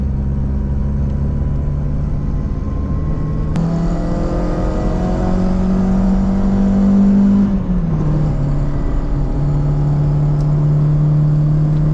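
A Renault Megane Coupe engine revs hard in third gear while climbing a steep hill, a loud sustained drone rising in pitch, dipping briefly at a shift, then holding high again.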